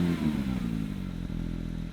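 A Porsche 911 992 GT3 with a manual gearbox fires up nearby with a loud burst, then settles into a steady, rumbling idle.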